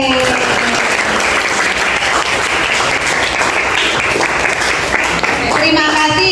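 Classroom of students clapping along in a call-and-response counting rhythm led by a teacher, chanting "tepuk 1, tepuk 2, tepuk 3" in Indonesian, loud and dense with overlapping voices chanting throughout.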